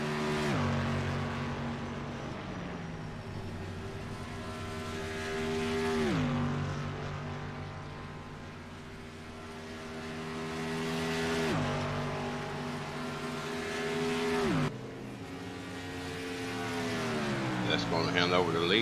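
A Chevrolet Camaro race car at Las Vegas Motor Speedway during a Friday night race, its engine droning steadily, shifting and easing off repeatedly as it slows into the pits on lap 62, with other engines around it.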